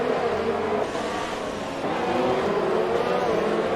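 F1 video game race car engine revving continuously from an audio bug, a loud steady droning whine held throughout over other race sounds.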